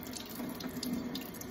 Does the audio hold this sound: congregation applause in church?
no